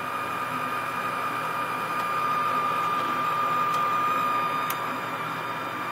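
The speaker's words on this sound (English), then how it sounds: "The inducer motor has turned on for 10 seconds." A furnace inducer blower motor runs in a forced-air unit, a steady close mechanical whir with a sustained tonal hum and faint ticks, no talk over it.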